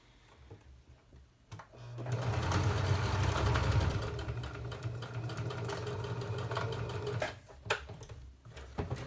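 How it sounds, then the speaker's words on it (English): A sewing machine stitches a fabric face mask, its steady motor whir running continuously for several seconds after a brief start, loud and close, with a few clunks as it stops. "you take it to your sewing machine and sew from here to here"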